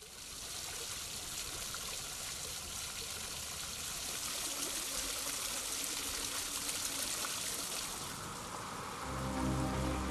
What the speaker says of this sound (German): Ein wuchtiger und dennoch verspielter Brunnen verschönert den Bereich vor dem einstigen Bahnhofsgebäude im erzgebirgischen Oelsnitz.